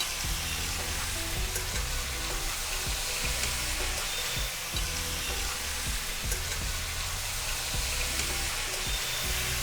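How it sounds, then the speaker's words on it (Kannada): Broiler chicken frying in a pan, a steady dense sizzle with occasional stirring clicks running throughout, close and alone without any talk. "ಹಾಗೆ ಜಸ್ಟ್ ಫ್ರೈ ಮಾಡ್ಕೊತೀನಿ."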